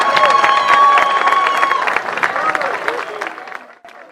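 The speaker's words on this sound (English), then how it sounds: "Give a big fine round of applause." A grandstand crowd at a horse race meeting in Osoyoos breaks into loud, close applause and cheering, a dense burst of clapping that gradually thins and fades over a few seconds.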